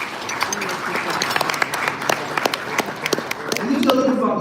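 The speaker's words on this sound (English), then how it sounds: "Let's give a round of applause." Banquet crowd at a CAIR Minnesota dinner breaks into a round of applause, scattered sharp claps building into fuller clapping toward the end, with faint voices underneath.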